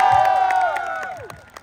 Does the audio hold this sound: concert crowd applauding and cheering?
yes